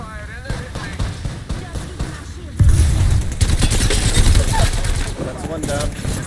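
Gunfire in an Apex Legends match: at first single shots and short bursts, then a heavy stretch of rapid automatic fire and booming impacts, with a voice talking over it.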